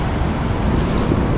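Sea waves surge at a river mouth (bocana) where ocean meets estuary in El Salvador, a loud, broad wash of surf mixed with wind rumble, continuous over a brief moment without speech.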